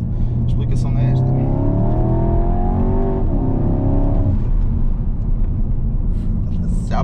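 Remapped Skoda Octavia vRS TFSI 200 hp engine accelerating, revs climbing steadily with a rising tone, dropping, then climbing again, loud and close from inside the car.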